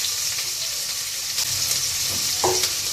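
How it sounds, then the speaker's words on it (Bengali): Onions frying in oil inside a rice cooker pot give a close, steady sizzle, with a few brief scraping stirs near the end. "রাইস কুকারের পাত্রটি বসায় দিছি, আগে তেল দিয়ে দিলাম, পেঁয়াজ দিয়ে দিচ্ছি"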